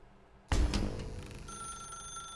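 Telephone ringing in The Stanley Parable video game: a sudden loud onset, then a steady electronic ring tone that rings on alone and close.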